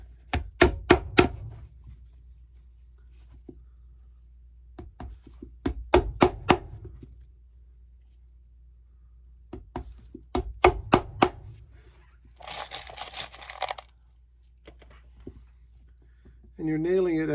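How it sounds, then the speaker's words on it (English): Hammer blows drive nails at an angle into the sole of a Red Wing boot at a cobbler's bench, struck in quick bursts of three to five sharp knocks separated by pauses, with brief rasping scrapes between. "You're nailing it at an angle, so as it's hitting the metal last, it's curling inside."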